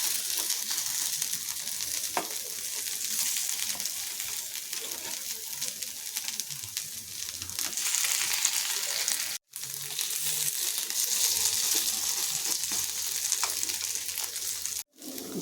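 Sabudana appe fry in ghee in the cups of an appe pan, giving a steady broadband sizzle that runs the whole time at moderate level, with two brief dropouts and no talking.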